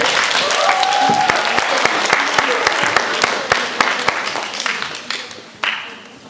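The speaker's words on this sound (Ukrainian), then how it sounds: "Під ваші бурхливі оплески" Sustained audience applause at an autumn ball, many hands clapping at once with sharp individual claps standing out, gradually thinning toward the end.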